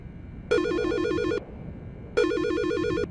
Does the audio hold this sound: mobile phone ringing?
yes